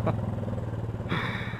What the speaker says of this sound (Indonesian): Ya beginilah ya knalpotnya